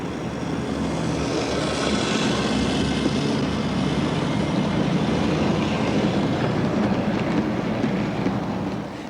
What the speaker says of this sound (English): This is an HO Continental layout built by John Christie